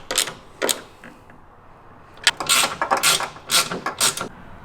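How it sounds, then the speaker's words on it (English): A socket ratchet tightening a nut on a Tesla Model 3 taillight gives short bursts of crisp, rapid clicking, a couple of brief strokes, then a longer run of quick ratcheting up close. "you're going to get your socket and tighten it down"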